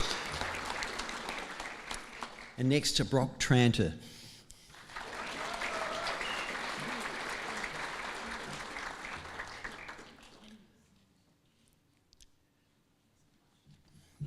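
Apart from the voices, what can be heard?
applause at a graduation ceremony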